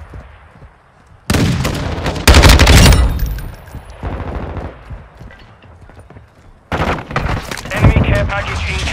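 Video game firefight with rapid bursts of gunfire and heavy booming explosions, loud and close, coming in several intense waves separated by brief quieter gaps, with voices calling out over the action.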